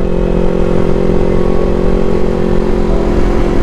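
A motorcycle engine roars up close, loud and continuous, with a steady throbbing rumble and no talk over it.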